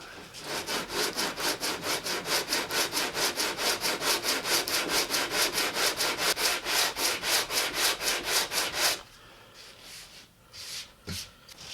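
A hand saw cuts a truss rod slot into the wooden neck of a 1960 Les Paul Junior Special-style guitar, with fast, steady, rhythmic rasping strokes for about nine seconds, then stopping for a few faint knocks.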